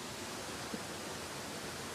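Clear water flows at a hidden spot in Meghalaya, heard as a steady, even rush with a faint brief knock partway through.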